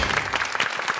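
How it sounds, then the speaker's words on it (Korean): Warm applause from a studio audience welcoming guests on a Korean health talk show, many hands clapping in a continuous even patter, close and full throughout the brief moment. "따뜻한 박수로 환영해 주시기 바랍니다"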